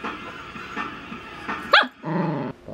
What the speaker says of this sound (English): Is that a bark?